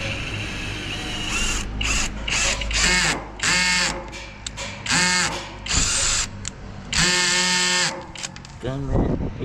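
A power drill with adjustable torque whirs in several short bursts of rising and falling pitch on a terrace floor build site, separated by brief pauses, while people talk nearby.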